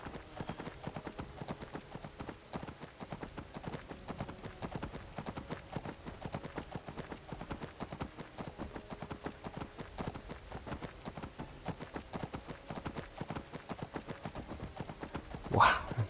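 Horse hooves clip-clop at a steady walking rhythm in a video game, even and continuous throughout, with a brief brighter sound near the end.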